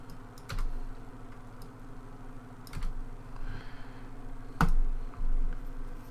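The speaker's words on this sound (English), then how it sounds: "Fingers, typing fingers." Fingers tap a computer keyboard in a few sparse keystrokes and clicks, close and fairly quiet over a low steady hum, with one sharper click standing out.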